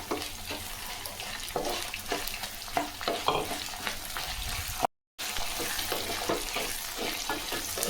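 Curry leaves and coriander sautéing in a hot pan, a dense close sizzle with scraping stir strokes throughout, briefly cut to silence midway, no voices.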